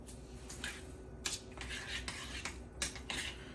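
A utensil stirs and scrapes through rice ingredients in a bowl, making soft repeated clinks and scraping strokes in a steady rhythm. The sound is close but quiet, and no one speaks.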